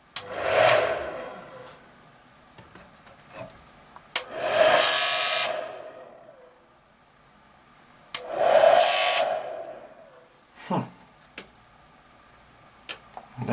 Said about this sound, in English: I think the fan is actually hitting. Yeah, the fan, I think it's hitting the side.